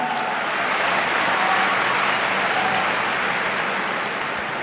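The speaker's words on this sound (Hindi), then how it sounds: "उसकी तालियां गूंज रही हैं।" Applause from an audience at a public talk: dense, steady clapping from many hands, loud and sustained throughout with no voices over it.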